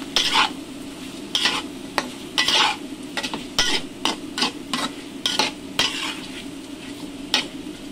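Porridge with sticky rice stirred in a pot, a spoon scraping and clinking against the sides in irregular strokes over a continuous low sizzle.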